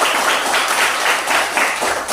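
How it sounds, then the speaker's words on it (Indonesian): Classroom applause from students after a science lesson on natural indicators, a dense, steady patter of many hands clapping together at close range for a couple of seconds. "Tepuk tangan buat semuanya"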